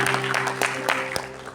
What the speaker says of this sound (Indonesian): Boleh tepuk tangan untuk Bela Purwakarta